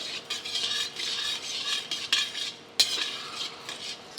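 Urad dal frying slowly over low heat in a pan, a soft continuous sizzle with a spoon stirring and scraping against the metal, including a couple of sharp clinks, close and steady.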